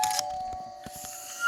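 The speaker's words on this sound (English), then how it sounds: "Oh, that's a lovely doorbell." A doorbell chiming at a front door, a sustained electronic ding-dong tone ringing clearly with some clatter and shuffling around it, no voices.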